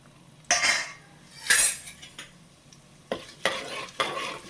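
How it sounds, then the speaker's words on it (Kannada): Whole spices (bay leaf, cumin, fennel, cinnamon, cloves, stone flower, marathi moggu) hit hot oil for raw jackfruit pulao, bursting into loud sizzles in several separate waves, with light clinks of a spoon against the pan in between. "ಎಣ್ಣೆ ಬಿಸಿಯಾಗಿದೆ. ಒಂದು ಪಲಾವ್ ಎಲೆ ಮತ್ತು ಅರ್ಧ ಸ್ಪೂನ್ ಜೀರಿಗೆ, ಅರ್ಧ ಸ್ಪೂನ್ ಸೋಂಪು"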